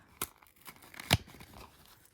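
Fabric torn by hand for a bird soft sculpture gives short, sharp ripping bursts: a quick tear, then a louder, longer rip about a second later, with faint rustling between, quiet and close.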